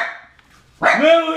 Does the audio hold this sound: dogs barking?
yes